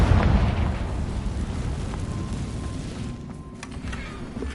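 Spell explosions from Bombarda and Confringo in the video game Hogwarts Legacy, a dense continuous rumble of booming blasts that stays loud and fairly steady, easing slightly toward the end with no voices.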